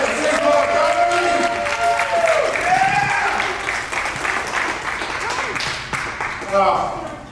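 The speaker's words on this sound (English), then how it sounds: "So give a round of applause to the mayor of having here at the Big Lord Gallery." Crowd at a TWF professional wrestling event at the Big Lord Gallery applauds the mayor, loud clapping and cheering filling the room, with an announcer's amplified voice talking over it before the noise eases toward the end.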